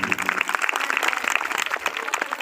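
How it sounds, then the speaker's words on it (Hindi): A crowd at a Bhagwat Katha religious discourse in Singhola claps after the telling of the Sudama story, a brisk, dense and continuous patter of hands at moderate volume. "जोरदार तालियों से एक बार और स्वागत कीजिए।"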